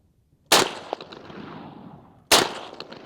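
Two sharp, loud gunshots from an HK G3 rifle, spaced almost two seconds apart, each followed by a long ringing decay outdoors; no talking.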